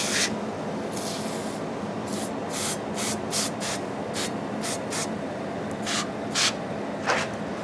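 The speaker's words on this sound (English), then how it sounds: "Maybe I'll try some oven cleaner." Repeated short hissing bursts of aerosol oven cleaner being sprayed on a part from a 1964 Ford F100 truck, close by over a steady background rumble.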